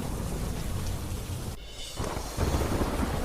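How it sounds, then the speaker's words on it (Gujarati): Light, steady rain falls over open fields around Patan, Radhanpur and Santalpur in Gujarat, a dense even hiss that briefly thins out midway before returning fuller and slightly louder. "પાટણ રાધનપુર સાંતલપુર સીમમાં ધીમી ધારે વરસાદ વરસ્યો"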